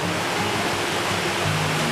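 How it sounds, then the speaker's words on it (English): A brook running around a small peninsula campsite, tumbling over little waterfalls, gives a steady, close, broadband rush of flowing water with no pauses. "which is like, well, little bits of waterfalls even."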